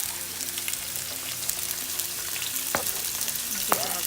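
Mixed vegetables with celery stir-frying in plenty of oil for a Chinese stir fry, a steady close sizzle with a few sharp scrapes and clatters of a utensil, no voices.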